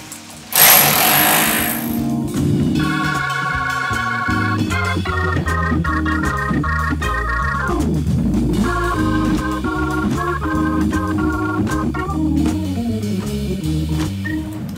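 A demolition hammer pounds in a rapid, continuous rattling chisel rhythm, loud and close, with shifting pitch as the tool bites into material.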